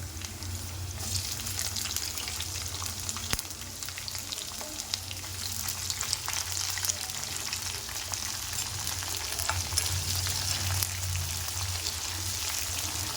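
Chopped onions fry in hot oil with green chillies for a sprouts curry, giving a steady, close sizzle that runs throughout alongside faint clinks.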